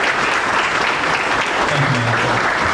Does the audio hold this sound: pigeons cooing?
no